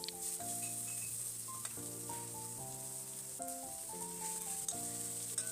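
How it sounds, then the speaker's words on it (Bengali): Chicken pieces fry in a pan with fried onions, a steady bright sizzle under prominent background music. "এবার এই জলের থেকেই চিকেনগুলোকে তুলে পেঁয়াজ ভাজার মধ্যে দিয়ে দিচ্ছি"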